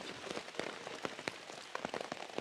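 Rain falls at night in the Bastar forest where soldiers camp, with steady hiss and distinct drops pattering close on a surface, moderately quiet and with no voices.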